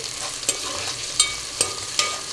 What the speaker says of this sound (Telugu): ఈ ఉల్లిపాయలు అయితే లైట్ గోల్డెన్ కలర్ వచ్చేంత వరకు ఫ్రై చేసుకున్నామండి